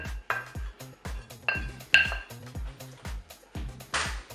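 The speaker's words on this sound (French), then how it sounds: "Je vais rajouter tous les ingrédients dans le saladier de pommes de terre. Je vais mélanger bien sûr." Ingredients are mixed through a potato salad in a bowl, giving a regular rhythm of soft thuds and clinks from a utensil striking the dish, about two per second, close and fairly quiet, with no speech.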